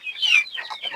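Chicken calls on a poultry farm, a short burst of clucking and squawking from one or two nearby birds, fairly close and clear with no talking over it.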